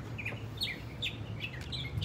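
Birds chirp outside, with several short, bright tweets repeating in an irregular rhythm over a low indoor hum, moderately distant and with no talk.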